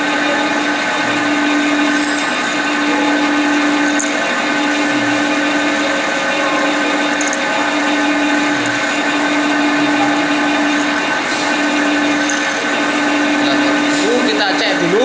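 A drill bores a hole for a hinge pin with a continuous, even high-pitched whine that holds steady throughout, no pauses or bursts.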